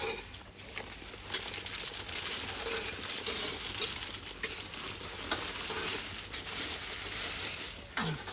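Spices and curry leaves dry-roast in a pan for homemade chilli powder, giving a steady, close sizzle and rustle with scattered light clicks and scrapes of stirring throughout.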